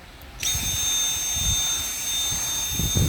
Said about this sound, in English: Vacuuming up the hair I picked out of the nozzle.